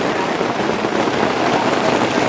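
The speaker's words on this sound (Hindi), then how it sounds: "तो अभी बारिश होती है, ठीक है, तो हम चलते हैं, बारिश कंटिन्यू है" Steady rain pours onto a mountain pilgrimage trail, a loud, dense, unbroken hiss of drops spread evenly throughout with no voices over it.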